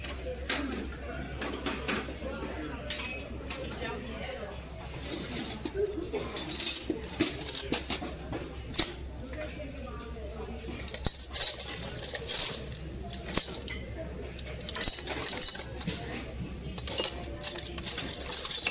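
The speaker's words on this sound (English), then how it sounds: "It's like a hand-blown glass butter knife." Hand-blown glass butter knife and spoons clink and tap together in scattered bursts while being handled, mixed with people talking and background hum.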